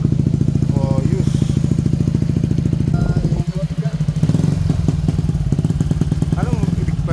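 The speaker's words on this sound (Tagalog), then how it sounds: "Ito guys, sound check sa ating bagong kalkal pipe." Yamaha XMAX 300 scooter engine fitted with a new kalkal exhaust pipe, loud close rapid idle putter with revs rising and falling, and a voice speaking over it.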